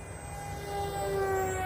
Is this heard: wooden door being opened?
no